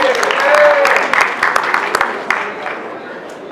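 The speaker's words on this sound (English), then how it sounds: "I would have thought there would have been a little more applause." A meeting audience gives brief, moderate applause that fades out within a few seconds, with a voice heard under the clapping.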